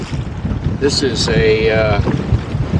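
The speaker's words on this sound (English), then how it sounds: "the wind is coming out of the southeast, not the southwest" Strong wind buffets the microphone during a slow rowboat ride on a choppy, shallow stretch of bay with a southeast wind, a continuous rumbling roar beneath someone speaking briefly.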